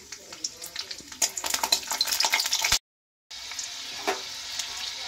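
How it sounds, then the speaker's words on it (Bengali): Dried red chillies and garlic sizzling and frying in hot oil, a steady crackling hiss with stirring, briefly cutting out before the sizzle resumes. "রসুন আর শুকনো লঙ্কাটা সবার প্রথমে আমি ভেজে নিচ্ছি।"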